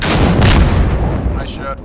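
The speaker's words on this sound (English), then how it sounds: "We'll fire a rocket back there." A rocket launcher fires in the video game Insurgency Sandstorm as a single loud, close booming blast that rolls out over about a second, followed by a brief clatter.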